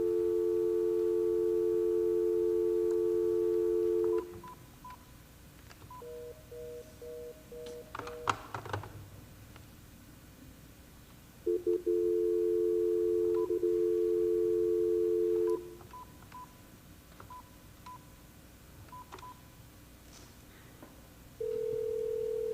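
An outgoing phone call placed during a school board meeting: long steady tones and beeps from the handset, with a burst of keypad dialing tones and clicks in the middle and repeated ringback tones, heard alone without talk.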